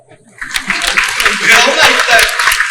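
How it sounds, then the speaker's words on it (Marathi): Crowd at a public speech breaks into clapping after a short lull, building quickly into steady, dense applause mixed with some laughter and voices, loud and close. "त्यांच्यासाठी टाळ्या वाजवा."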